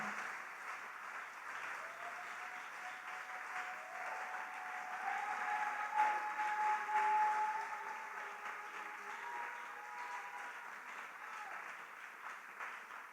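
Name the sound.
congregation applauding and acclaiming in church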